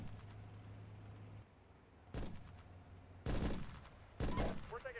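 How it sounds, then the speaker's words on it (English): Gunfire in the Steel Beasts Pro PE tank simulator: three sharp, heavy shot bursts, each with a ringing decay, over a low rumbling engine bed. Faint voices come and go. "We're taking fire here."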